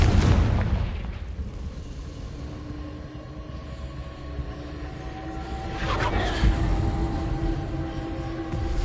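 A Confringo explosion spell in Hogwarts Legacy goes off with a heavy blast at the start, followed by a rumbling tail and a second, softer boom a few seconds later, with no voices.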